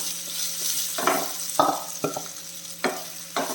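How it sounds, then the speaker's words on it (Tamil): Sesame seeds fry and crackle in a pan for a raw papaya stir-fry, a steady soft sizzle broken by several sharp spoon scrapes and clinks as the pan is stirred. "பாருங்கள் எள்ளு பொரியுது"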